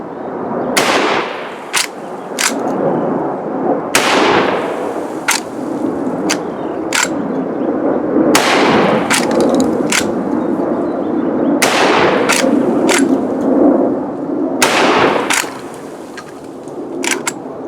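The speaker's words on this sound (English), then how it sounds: "Century PW-87 lever action 12 gauge. Very first shots" Loud gunshots from a Century PW-87 lever-action 12 gauge shotgun, about eight sharp blasts in uneven groups at an outdoor range, each with a short echoing tail, over steady background rumble.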